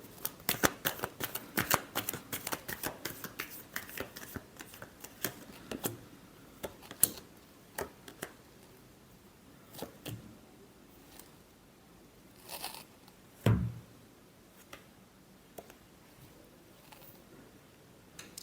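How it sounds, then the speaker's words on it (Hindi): Tarot cards are shuffled by hand in close, quiet riffles and flicks, a dense run of crisp card slaps early on that thins into scattered taps and a final heavier shuffle. "Last shuffle."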